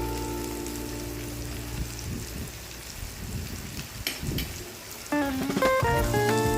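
A chicken snack fries in a pan over low gas, with a soft, steady sizzle like light rain. Quiet background music comes in near the end.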